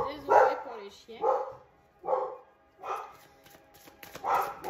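Dogs bark several times in short separate bursts, fairly close and clear, with someone talking in French in the gaps between them.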